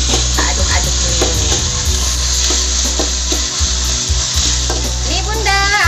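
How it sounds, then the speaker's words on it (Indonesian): Ground spice paste stir-fries in hot oil for Betawi-style beef soup, a loud, continuous sizzle close by with repeated scraping stir strokes and faint voices underneath. "seperti biasa kita tumis bumbu halusnya dulu. Kita oseng-oseng dulu ya sebentar sampai wangi ya."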